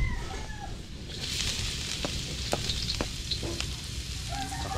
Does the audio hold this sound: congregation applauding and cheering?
no